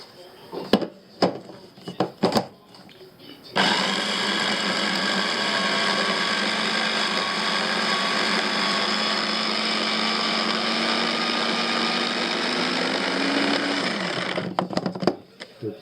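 A food processor chops wild garlic for vegan pesto, running as a loud, steady motor whir for about eleven seconds, with a few knocks and handling clatter before and after.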